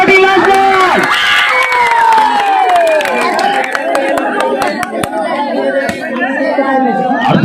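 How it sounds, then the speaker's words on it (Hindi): Spectators at an outdoor club volleyball final clap and cheer, with children shouting and chatter mixed in, while an announcer speaks loudly over the crowd throughout. "एक बार फिर से दर्शकों ताली से स्वागत कीजिए"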